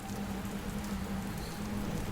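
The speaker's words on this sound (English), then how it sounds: "It's just as heavy as ever. The rain is coming down." Heavy rain pours steadily during a thunderstorm outdoors near a truck, a dense, constant hiss of drops striking surfaces with a low hum beneath, loud and unbroken throughout.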